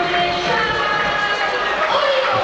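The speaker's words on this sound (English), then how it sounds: "Crowd are in full cry here in the south of France" Rugby crowd at RC Toulon's home ground in the south of France during a Champions Cup match against Exeter, a steady roar of cheering and chatter filling the stadium at a constant level with commentary-style talk over it.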